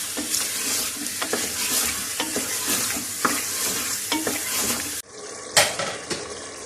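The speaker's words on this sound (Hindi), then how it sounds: "चिकन को माशाल्लाह मैं भी अच्छी तरह भून रही हूँ" Chicken fries in a pan while being stirred, with a steady sizzle and repeated scraping strokes of a utensil; the sound cuts abruptly near the end, then a final scrape or two.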